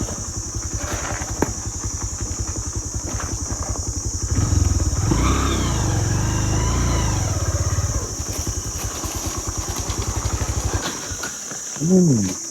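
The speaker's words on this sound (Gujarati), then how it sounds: "અમે જો ફરીએ છે અત્યારે ઓફરોડિંગ બાઇક લઈ" An off-road motorcycle rumbles and idles in a steady low throb outdoors, swelling louder for a few seconds as the engine picks up, with clattering over rough ground and brief voices near the end.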